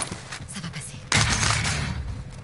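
A sudden, loud burst of gunfire erupts midway through a Warzone battle in Resurgence mode, a dense crackling volley that follows quieter game noise, with a player's voice heard alongside.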